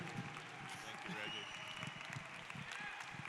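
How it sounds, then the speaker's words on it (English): A live audience applauds a spirituality talk with Dave Hodges and Moudou Baqui, a steady, even wash of clapping that holds the whole time, while a voice talks over it. "Give a great big round of applause for Baba Moudou and Dave, Pastor Dave."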